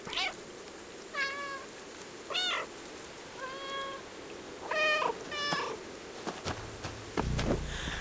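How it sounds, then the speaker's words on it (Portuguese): Cats meowing in the video game Stray, several distinct close meows spaced a second or so apart, followed by a few soft thumps and rustles. "Eles miam comigo."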